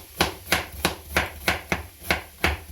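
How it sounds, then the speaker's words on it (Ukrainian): A knife chops cabbage for borscht on a cutting board in nine evenly spaced, crisp knocks. Each knock is close and clear, with no talking over it. "Нарізаємо капусту."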